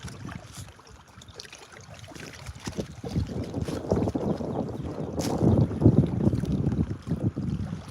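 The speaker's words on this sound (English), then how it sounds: "I'm expecting this wind to die down" Wind gusts buffet a fishing boat on an Ontario lake, a rough rumbling roar that swells louder over several seconds with water lapping underneath.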